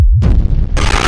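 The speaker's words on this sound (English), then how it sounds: "Sounds like a bomb going off." A Whipple-supercharged Ford Cobra engine lets out a single loud, close boom like a backfire, followed by a rough, heavy engine rumble that stays strong to the end.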